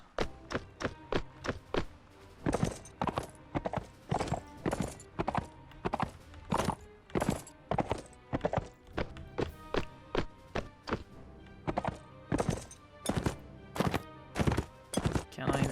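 Horse hooves clip-clopping in the medieval video game Mount and Blade: Warband, a steady fast gallop of sharp, close hoof strikes repeating throughout without talk.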